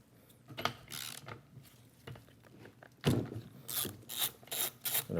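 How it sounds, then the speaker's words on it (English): Ratchet with a 3/4 socket backing out the spark plug on a ten-year-old Echo string trimmer, heard as quiet bursts of close ratcheting clicks separated by short pauses, with some handling noise in between. "you're going to get a 3/4 socket."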